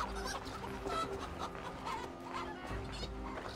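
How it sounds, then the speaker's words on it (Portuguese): Chickens cluck in a farmyard in Assassin's Creed Valhalla, a steady, busy murmur of hens mixed with ambient game sound, with no talking. "Vou brincar com as galinhas."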